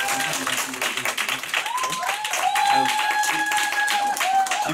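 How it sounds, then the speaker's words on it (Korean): An audience at a Nu Skin group gathering claps in a loud, dense, sustained burst, with bright sustained musical tones sliding over the applause throughout. "김건우 사장님 큰 박수 부탁드립니다."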